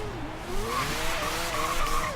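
A 2013 Mazda MX-5 drift build slides through a corner in Forza Horizon 3, its tires squealing in steady, wavering pitches over a constant engine drone, loud and continuous with no voices.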